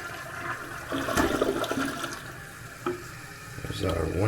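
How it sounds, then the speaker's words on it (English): A newly installed 1 gallon per flush toilet flushes loudly and close by, a steady rush of water swirling and draining for several seconds, with faint room noise and no talking. "There's our 1 gallon per flush toilet installed."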